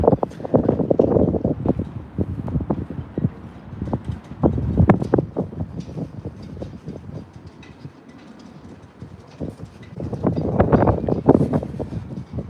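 Strong wind blasts outdoors, buffeting the microphone in loud, rumbling gusts that swell and ease, with one calmer stretch in the middle before the gusts pick up again.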